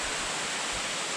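A small waterfall in Maleny flows strongly, making a constant, even broadband rush with no pauses or voices, heard from a nearby lookout.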